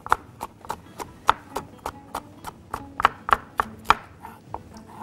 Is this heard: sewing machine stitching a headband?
no